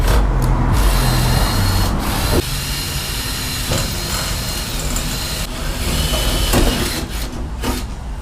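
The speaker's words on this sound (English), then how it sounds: "Got the holes drilled." Power drill boring holes for a wing install on a Subaru WRX: a loud steady whir that runs almost continuously, dipping briefly once or twice, close up and without speech.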